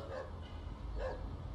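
A dog in a neighbourhood street gives two short barks about a second apart, somewhat distant and faint over low background rumble.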